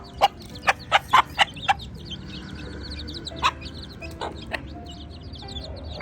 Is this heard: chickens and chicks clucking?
yes